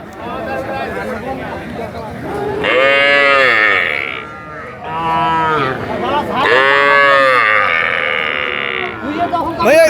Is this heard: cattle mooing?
yes